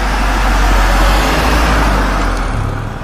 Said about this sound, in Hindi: उसने वैन स्टार्ट की और पीछे की तरफ रिवर्स गाड़ी भगाने का फैसला किया।